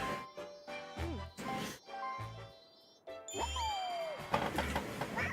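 Chiming dings and tinkling jingles from a dice block being hit in a Super Mario World ROM hack, with bright rising tones and bouncy game music, loud and continuous with short pauses.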